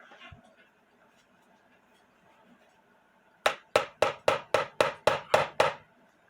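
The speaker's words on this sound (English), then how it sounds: "and then take a hammer" Hammer blows on a putty knife wedged into the case of an Albert Schwab Karlsruhe musical cuckoo clock during repair, nine sharp evenly spaced metallic taps, close and loud, following a quiet stretch.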